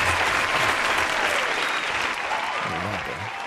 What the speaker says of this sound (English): God, the applause is very loud.